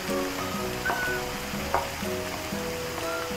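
Vegetables sauté in a pan with a beef stock cube added, giving a steady, close hiss of sizzling. Faint tonal sounds run underneath and a few soft clinks come through.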